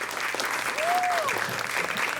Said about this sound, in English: big round of applause for Boyd Anderson